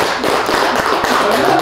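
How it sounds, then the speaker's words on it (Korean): A studio audience applauds, with dense, loud clapping that is sustained throughout and shows a few sharper claps standing out. "박수."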